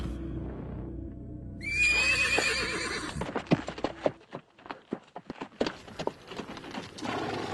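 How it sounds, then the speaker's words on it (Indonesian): A jet-black horse being led gives a shrill, quavering whinny, then its hooves clop in an uneven walking rhythm on hard ground, close and clear with no talk. "dia sudah kembali lagi menuntun seekor kuda berwarna hitam legam"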